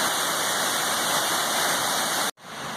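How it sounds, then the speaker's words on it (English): Loud, steady rush of snowmelt water pouring through a creek along the Appalachian Trail, a broad continuous roar that briefly cuts out near the end before resuming. "That's snow melt right there, y'all."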